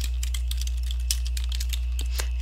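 Rapid, light keystrokes on a computer keyboard as a place name is entered into a mapping program, a steady run of close clicks with a few sharper taps and no talking.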